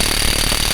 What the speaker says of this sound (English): I'm gonna see if the small Hercules impact will actually take that off.